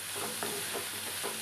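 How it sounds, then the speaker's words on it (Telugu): Thinly sliced onions crackle in hot tempering oil for a dosa topping, making a continuous close sizzle with soft stirring scrapes throughout and no voices. "సన్నగా కట్ చేసిన ఉల్లిపాయలు అవన్నీ పోపు పెట్టుకున్నామండి."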